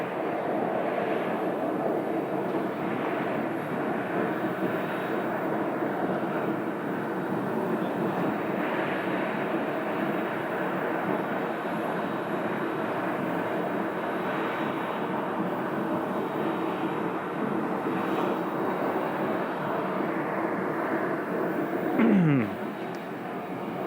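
An airplane on approach to runway 21 at Scottsdale airport, a steady broad engine roar holding loud and close for the full span before a brief swell and sweep near the end.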